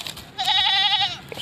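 An agitated buck goat gives a single loud, wavering bleat of about a second, close by.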